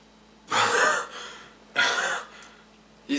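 A man gasps and breathes heavily: three sharp, loud intakes of breath, each trailing into a rough exhale, close up with no speech.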